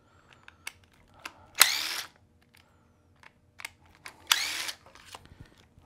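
A small power screwdriver whirs in two short bursts as it backs out screws from the front fender panel of a toy motorcycle, with faint clicks and handling noises between them.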